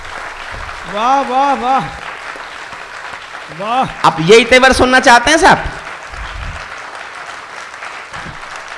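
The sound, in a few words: audience applause at a poetry recital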